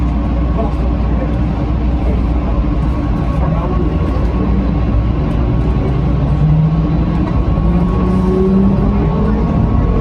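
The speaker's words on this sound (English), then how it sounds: "I think I'm gonna go take this tram." Loud, steady rumble of an airport tram at Dallas in motion with a rising whine, heard from inside, with voices murmuring underneath.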